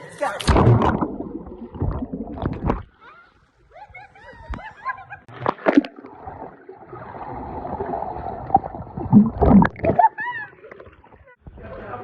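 People dunk underwater in outdoor water while holding a phone, making irregular splashes and sloshing bursts mixed with laughter and lively talk nearby.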